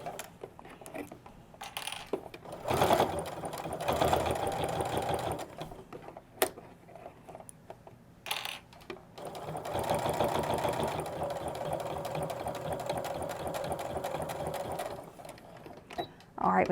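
A sewing machine stitches a narrow seam along the edge of a fabric nesting bag in two bursts of steady, rapid whirring, with a pause and brief backstitch between them and talk in the gaps.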